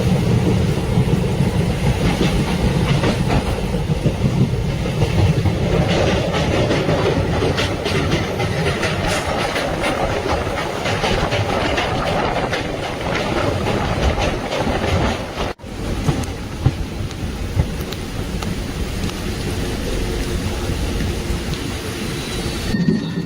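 A passenger train rolls into Mangalore Junction with a steady rumble and rhythmic clickety-clack of wheels on track, occasional wheel squeal and a brief dip near the end, loud and continuous with no talking.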